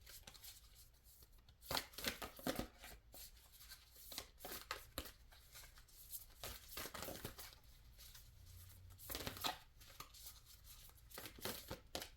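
Soft, irregular riffling and flicking of cards being shuffled, close and quiet, in short bursts with brief pauses.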